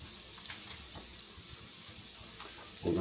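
Fresh-cut corn on the cob frying in a pan, a faint, steady sizzle and hiss running continuously at low level.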